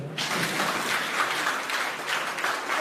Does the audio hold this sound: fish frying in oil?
no